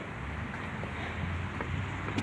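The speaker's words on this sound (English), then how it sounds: "It's getting windy." Moderate wind rushes outdoors as a thunderstorm approaches, a steady soft roar with slight gusts and a few faint clicks.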